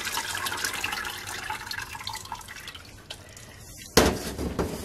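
Goat milk pours steadily into a container, splashing and dripping close by, and ends in a sudden louder splash near the end, while making cold-process soap.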